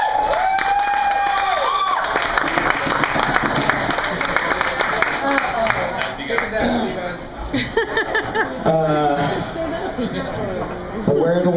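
Audience applause, cheering and chatter fill a room at a comedy roast as a comedian is brought up, a dense continuous wash of clapping with some laughter and voices throughout.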